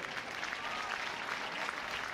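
Arena audience applause for a departing show jumping rider at the Dublin Nations Cup, a dense, even roar of distant clapping filling the short stretch without talk.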